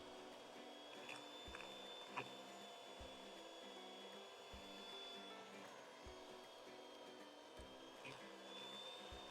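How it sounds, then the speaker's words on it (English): Electric mixer whirring steadily as it beats egg yolks for tiramisu, a constant mid-level motor drone with faint periodic knocks of the beaters against the bowl, heard alone. "you can hear the mixer working harder."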